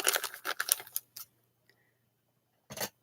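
A burst of quick crisp scissor snipping and crinkling of packaging up close, a short pause, then another brief rustling cut; no talking.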